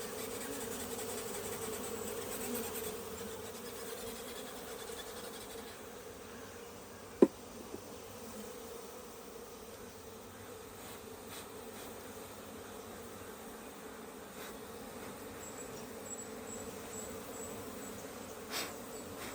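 Honey bees buzzing steadily around an opened hive during honey harvest, a continuous close drone with a single sharp knock partway through.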